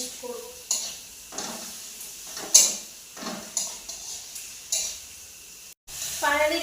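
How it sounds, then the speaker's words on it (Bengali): Tomato and green chili being stirred into fried spice paste for a spicy rohu-type fish curry, a spoon scraping the pan in repeated strokes over a soft sizzle, close and moderately loud with no talking. "এবারে দিয়ে দিব টমেটো আর কাঁচা লঙ্কা। ভালো করে এবার মশলার সাথে টমেটো আর কাঁচা লঙ্কাতে মিক্স করব।"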